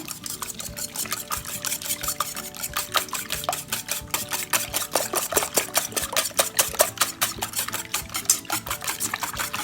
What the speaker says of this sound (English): Mix them, break the yolks, mix it well.